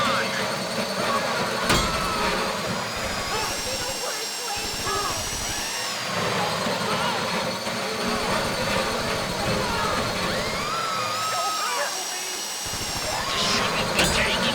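A safe-cracking drill whirs steadily during a Fleeca bank heist in GTA V Online, its grinding hum running the whole time under people talking urgently, with engine-like drones and a brief high whine partway through.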